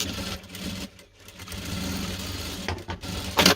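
A sewing machine stitches reinforcing seams on a fabric bag handle, a close, even mechanical whir that stops briefly and then resumes, ending with a louder clatter.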